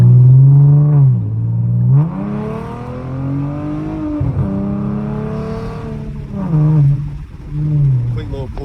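A 2014 Ford Mustang V6 pulls hard in a brief burst of acceleration, its engine note climbing steadily and loud from inside the cabin, with no voices over it.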